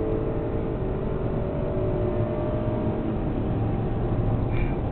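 A BMW 750Li accelerates hard down a drag strip, its engine a steady, moderately loud roar that holds through the run with no voices over it.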